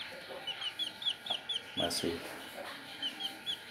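Soft repeated clucking and peeping from one-week-old Brahma chicks, with a brief murmured voice partway through and faint background noise.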